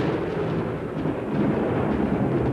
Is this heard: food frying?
no